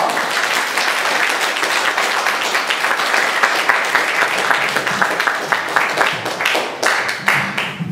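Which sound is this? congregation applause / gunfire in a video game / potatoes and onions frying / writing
congregation applause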